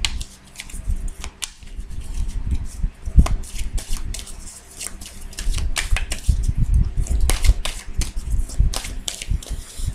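Tarot cards are shuffled by hand, making a continuous crackly riffling and flicking that rises and falls over ten seconds, close and fairly loud, with no speech.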